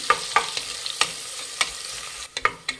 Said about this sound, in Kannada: ಗೋಲ್ಡನ್ ಬ್ರೌನ್ ಬರೋವರೆಗೂ ಈರುಳ್ಳಿ ಫ್ರೈ ಮಾಡಿ